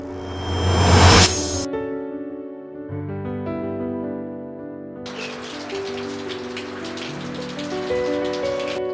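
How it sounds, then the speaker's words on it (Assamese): Morning rain falls outside in cool weather, a steady patter of drops on surfaces that fills the later part, with sustained tonal sounds and a louder burst near the start. "বাহিৰত দেখা পালো কি সুন্দৰ বৰষুণ দি আছে"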